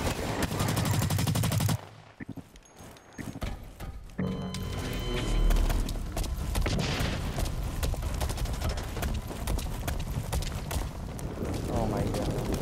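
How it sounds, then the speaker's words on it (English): Gunfire in Blacklight: Retribution crackles in dense, loud bursts, with sharp rapid shots and booms near and around, briefly dropping out before the shooting resumes heavily. "They shoot me from every direction."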